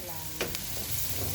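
Chicken gizzard hits a hot pan for Filipino sisig and sizzles with a steady crackling hiss, a sharp clatter at the moment it is added.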